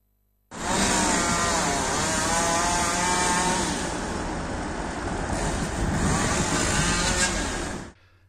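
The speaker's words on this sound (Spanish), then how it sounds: "ha estado dos días efectuando la poda de palmeras con motosierra" Chainsaw pruning palm trees on a city street, running loud and steady for about seven seconds with a high whine, starting abruptly and cutting off at the end.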